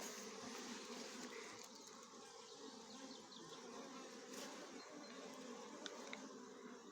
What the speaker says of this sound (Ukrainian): Хочу показати, як Бджоли зараз літають